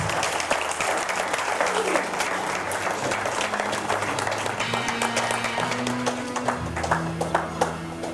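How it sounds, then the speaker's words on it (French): Lively audience applause at a Paris cultural evening marking a centenary, many hands clapping steadily for several seconds with crowd murmur and a voice or two underneath. "Les applaudissements"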